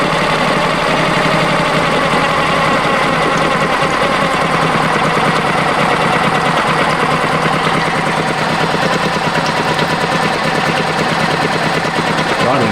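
A cold Yamaha outboard motor idles smoothly and close, a constant fast ticking hum with mechanical clatter that holds steady throughout, with no talk over it.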